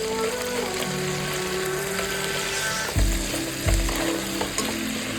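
Crab pieces sizzle steadily in a hot frying pan for a spicy crab curry, with a continuous close frying hiss and a couple of soft knocks as the pieces are turned. No voices.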